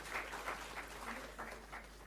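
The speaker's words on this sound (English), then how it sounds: "Round of applause for School of Mathematics, Applied Statistic and Analytics." Applause for a university school's graduates at a convocation ceremony, a steady wash of many hands clapping at moderate level throughout, with faint voices underneath.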